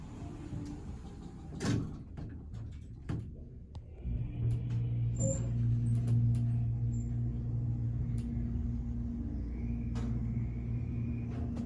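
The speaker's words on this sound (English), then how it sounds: "Listen to this motor." The motor of an Excel hydraulic service elevator starts up and drones with a low steady hum, with a few clunks and knocks beforehand, like machinery running inside a small enclosed space.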